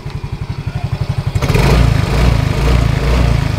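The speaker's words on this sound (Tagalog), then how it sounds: "Nakita nyo, umaandar siya sa kickstart." A Yamaha Mio scooter with no battery fitted starts on the kickstart, chugging rapidly and evenly at first, then revving into a loud, steady run up close.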